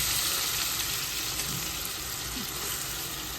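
Chopped onions fry in hot oil for a Nellore fish curry, a dense continuous sizzle with faint stirring scrapes, close and steady with no speech.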